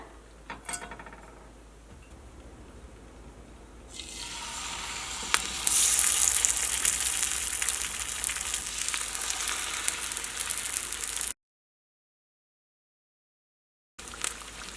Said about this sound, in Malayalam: ഇത് നമ്മൾ ചിക്കൻ വറുത്തെടുക്കാൻ വേണ്ടിയിട്ട് പോവാണ്